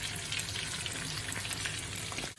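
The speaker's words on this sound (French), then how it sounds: "Et moi, je n'ai plus qu'à frire." Fish frying in a pan for a rice dish with onions, a steady dense sizzle that fills the clip at close range, with no talking.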